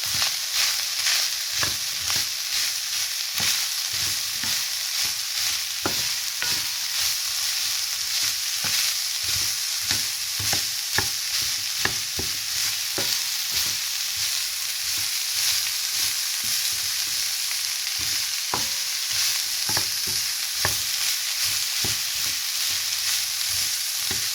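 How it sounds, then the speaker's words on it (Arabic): Chopped onions, one large or two medium, sizzle and crackle steadily in a pan for Egyptian galash with minced meat, with bursts of stirring clicks scattered throughout and no talk. "بعد كده هننزل بالبصله، بصله كبيره او بصلتين صغيرين زي ما تحب."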